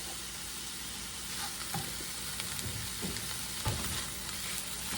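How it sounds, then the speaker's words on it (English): Cream cheese melting in a hot pan, a steady close sizzle and crackling hiss running throughout, with a few soft stirring taps and scrapes scattered over it. "Okay, so I've got my cream cheese in there melting."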